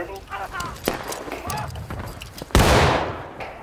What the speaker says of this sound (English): that was a firing squad